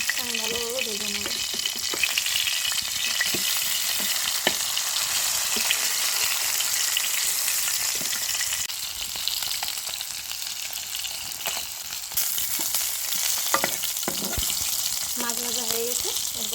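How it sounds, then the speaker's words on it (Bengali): Fish frying in hot oil in a wok for a Bengali village-style fish curry, a steady close sizzle and crackle lasting throughout, with faint stirring and a voice speaking softly in places. "মাছটা আমি ভালোভাবে ভেজে নেব।"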